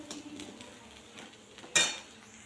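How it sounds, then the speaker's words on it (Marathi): Poha mixture being stirred and sautéed in a pan, giving soft scraping and clinking of a spoon against the metal, with one louder scrape near the end over a faint background hiss. "हे सर्व मिश्रण एकजीव छान असं हलवून परतून घ्यायचं."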